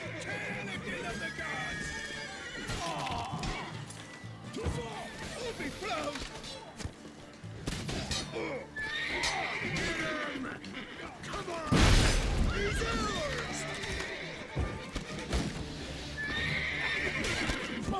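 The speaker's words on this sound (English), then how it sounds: "These bloody horses." In The Witcher 3: Wild Hunt, Blood and Wine, horses whinny and neigh repeatedly over clip-clopping hooves, with a loud crash partway through and game action sounds throughout.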